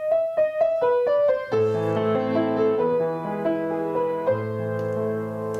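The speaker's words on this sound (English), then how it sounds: "A common example of tonal music would be Beethoven's Für Elise, which sounds like this." Beethoven's Für Elise on solo piano, opening with the familiar repeated two-note figure before broader chords and arpeggios enter, played clearly and alone without any talking.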